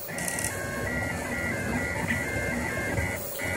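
Rostock Max 3D printer printing slowly, its motors buzzing and whirring in steady, shifting tones at a moderate, close level.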